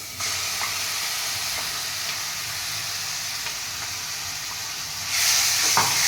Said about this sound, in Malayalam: നമ്മൾ നേരത്തെ ഏതാണ്ട് തക്കാളിയും എല്ലാം ക്രഷ് ചെയ്തെടുത്തതില്ലേ അതങ്ങോട്ട് ഇട്ട് കൊടുക്കുവാണേ